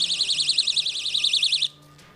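A home security alarm device, switched on in a house, emits a loud warbling electronic siren that pulses rapidly and steadily for under two seconds, then cuts off abruptly into quiet room tone.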